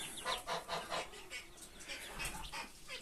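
Muscovy ducks give a run of faint, repeated soft calls and murmurs, close together, against a quiet farmyard background.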